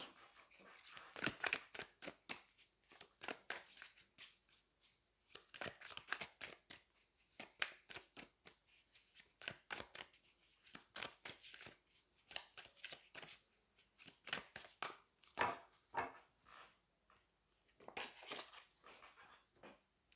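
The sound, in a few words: shuffling tarot cards to draw a card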